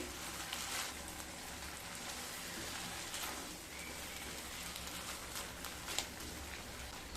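Fried eggs stirred with spice paste in an oiled pan for a Bengali egg posto dish, giving a soft, continuous sizzle with faint scraping and no talk.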